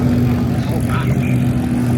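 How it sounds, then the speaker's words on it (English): A car does a burnout, a loud, close roar of engine and spinning tires that fills the whole brief moment as people talk nearby. "I love the burnouts this new year"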